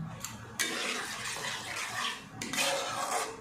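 Rinse water from a mixer jar pours into a pan of prawn masala being cooked on a low gas flame, a broad splashing wash with clinks of utensils, close and steady without talk.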